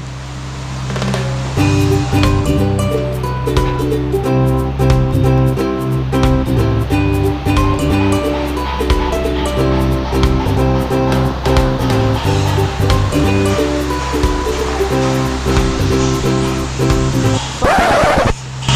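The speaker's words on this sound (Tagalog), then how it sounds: "Ang lakas ng ulan." Heavy rain pours steadily onto a roof and gushes from a gutter downspout in a loud, continuous wash. It keeps up unbroken for the whole stretch, and a sharp splashing burst comes near the end.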